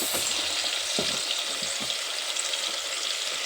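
Potatoes and carrots fry in a pan for brown rice khichdi, giving a steady, loud hiss of sizzling oil with a few soft stirring scrapes and no talk.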